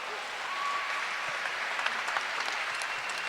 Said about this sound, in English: the applause you just got